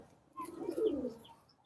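Pigeon cooing in a loft, a soft low rolling coo rising and fading over about a second, fairly close and alone without talk.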